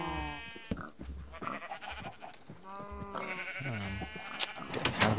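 Video-game sheep bleat repeatedly in loud, close, wavering calls, with goat-like cries overlapping and a few sharp clicks near the end, and no voices.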